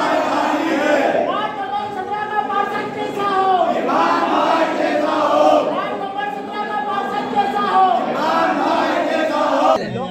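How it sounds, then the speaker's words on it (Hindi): Political supporters at a local election gathering in Badwah clap and cheer together, a dense wash of crowd voices, shouts and applause swelling in waves and staying loud throughout. "समर्थकों ने ताली बजाकर उनका उत्साहवर्धन भी किया"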